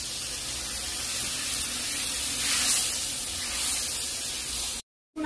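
Spice water poured into hot masala frying in oil gives a loud, steady, close sizzling hiss that runs for about five seconds before cutting off abruptly.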